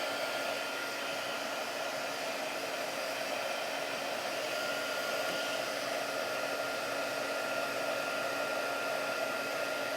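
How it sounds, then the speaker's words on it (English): An embossing heat tool blowing hot air, a steady, loud whooshing hiss with a faint motor whine, continuous and unchanging from start to finish with no voices. "And I need my heat tool"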